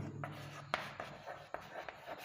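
Marker or chalk strokes on a classroom board, a run of short scratchy squeaks with brief pauses, fairly faint and close, with no talking.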